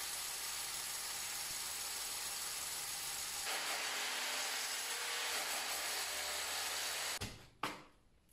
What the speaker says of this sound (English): So I think it's worth drilling a second hole.